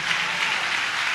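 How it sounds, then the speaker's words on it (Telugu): A church congregation claps in a dense, continuous burst of applause, loud and close, with no speech over it. "చప్పట్లు కొట్టండి గట్టిగా"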